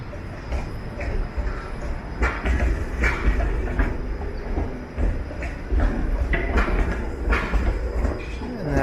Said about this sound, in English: is the 504 King streetcar. That will make its way up to Broadview Station.